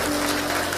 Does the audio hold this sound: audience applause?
yes